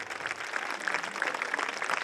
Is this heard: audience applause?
yes